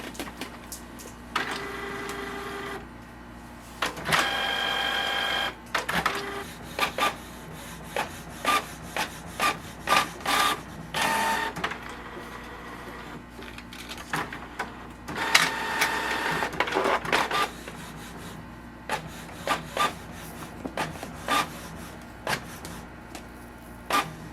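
Canon Pixma MG3640 inkjet printer making copies, with irregular mechanical whirs, clicks and paper-feed rattles in short bursts, fairly close.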